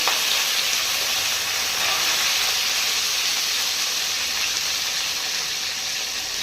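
Curry leaves dropped into hot oil for a fish curry crackle into a loud, steady, dense sizzling hiss that holds evenly throughout, with no voices.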